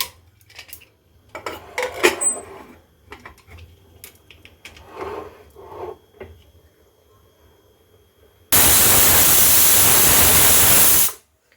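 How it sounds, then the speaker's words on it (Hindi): A pressure cooker of chana dal on a gas stove: light kitchen clatters and taps come first, then a loud, steady steam whistle hisses for about three seconds before cutting off. "कुकर का ढक्कन लगा के आप 4 सीटी इसमें आने दें।"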